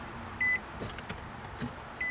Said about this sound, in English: I'm gonna turn the car on and see if we have sound.